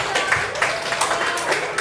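Classroom applause for a student named Rehan, a scattered patter of hand claps from a group of students that runs steadily for a couple of seconds at moderate loudness.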